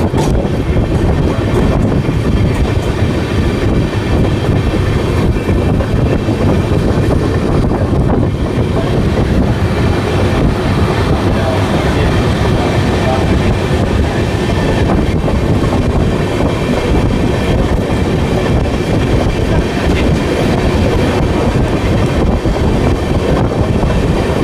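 An Amrit Bharat Express train runs fast through a station without stopping, a loud, steady rolling rumble heard from on board, with wheel clatter and wind noise throughout and no voices.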